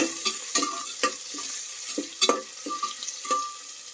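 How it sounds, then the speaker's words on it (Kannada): Chopped onions and green chilies stir-fried in a pan for a Kannada-style mutton sambar, with close sizzling and repeated scraping stirs of a spatula at an irregular rhythm, no voices. "ಇದಕ್ಕೆ ಮತ್ತೆ ನಾವು ಕಟ್ ಮಾಡ್ಕೊಂಡಿರೋ ಈರುಳ್ಳಿ ಮತ್ತು ಹಸಿಮೆಣ್ಸಿನ್ಕಾಯಿನ ಹಾಕೊಬೇಕು. ಹಾಕೊಂಡಿದ್ದೀವಿ ನೋಡಿ. ಸ್ವಲ್ಪ ಹಾಗೆ ಫ್ರೈ ಮಾಡ್ಕೊಬೇಕು."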